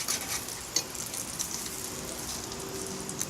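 Food browning and crackling in a Toaks 1.6 L titanium pot used as a pan outdoors, a steady close sizzle with soft pops and a brief sharper crackle, alone without talk.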